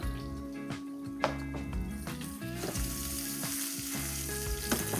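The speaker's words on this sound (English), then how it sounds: "And you just want that nice little sizzle." Food sizzles and crackles steadily in hot oil in a pan, with occasional stirring scrapes and pops, close and continuous with no voices.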